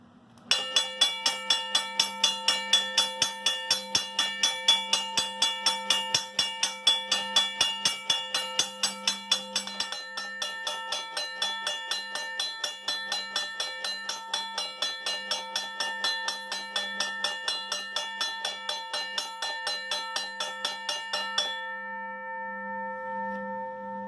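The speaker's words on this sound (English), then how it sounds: "First, we have my Safetran railroad crossing mechanical bell." Safetran mechanical railroad crossing bell ringing alone at a fast, even strike rate, loud and close, its metallic clangs running for about twenty seconds before stopping and leaving a lingering ring and hum.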